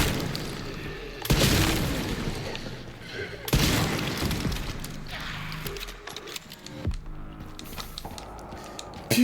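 Pump shotgun firing in the video game Resident Evil Requiem, two heavy booming blasts with crashing tails a couple of seconds apart, followed by quieter clattering and clicks, with someone talking over the game sound.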